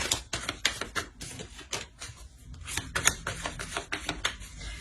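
Tarot cards are shuffled and drawn in a rapid run of dry, papery flicks and taps, close and crisp, in an irregular rhythm with no talking.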